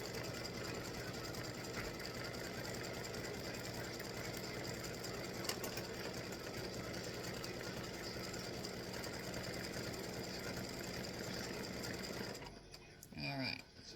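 Embroidery machine sewing a satin stitch across the top of a Halloween tic tac toe board, a continuous close mechanical hum with rapid needle rhythm that stops near the end.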